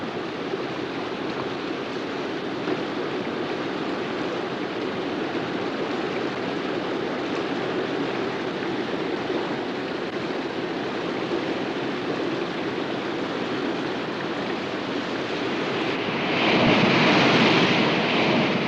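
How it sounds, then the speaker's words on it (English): Flooded rainforest rivers pour out to sea with a loud, unbroken rushing roar of water that surges stronger and brighter near the end. No voices. "The water runs off to flood the surrounding rivers, flushing fallen trees and debris out to sea."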